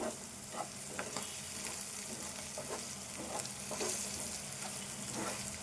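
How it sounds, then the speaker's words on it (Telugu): Freshly pounded ginger garlic paste frying with green chilli and onion for a broad bean and egg curry: a faint, even sizzle with soft intermittent stirring scrapes, steady throughout. "అల్లము వెల్లుల్లి పేస్ట్ ఇప్పుడే దంచిన ఇది వేసుకుందాం."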